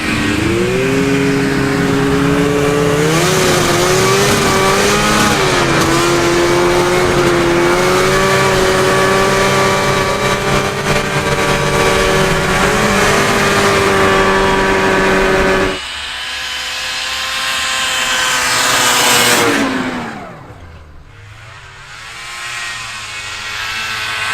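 Race cars rev and drive past at a racing event attended on a snowy trip, with a loud, sustained engine whine that shifts in pitch, then drops off and fades as the cars pull away.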